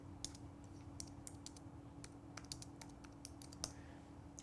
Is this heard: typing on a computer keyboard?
yes